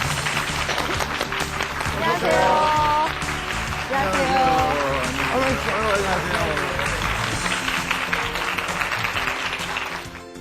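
Studio audience on a Korean TV health show clapping to welcome a doctor, a steady loud wash of applause running throughout, with a host's voice and a brief greeting over it.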